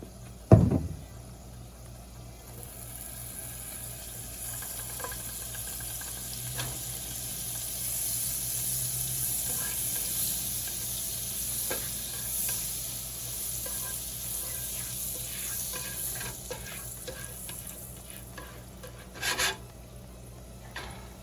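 A burger frying in butter in a non-stick pan gives a soft, continuous sizzle close by, with occasional clicks and a faint scrape, and no talk over it.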